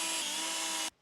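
A power drill whirs steadily, pre-drilling holes in wood for the feet under homemade deck steps, a loud close continuous spin that stops abruptly near the end.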